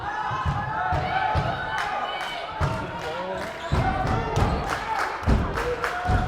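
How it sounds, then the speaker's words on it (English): A cheer squad at a high school girls basketball game, rhythmic chants and claps echoing through the gym amid ball bounces and crowd noise, with an announcer talking over it. "We do have the cheer squad."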